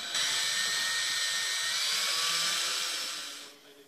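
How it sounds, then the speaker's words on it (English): A power drill bores an air-inlet hole for a homemade solar-powered hot air blower, whining loud and steady for about three and a half seconds before cutting off, with no talking. "What I'm gonna do is drill a hole for the inlet of the air"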